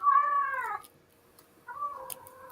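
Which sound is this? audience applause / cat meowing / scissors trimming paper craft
cat meowing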